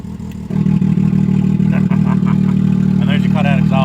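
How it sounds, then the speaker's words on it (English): A Can-Am side-by-side engine idles with a loud low burble, then revs in a few short blips through an open cutout exhaust near the end. "And there's your cutout exhaust right there."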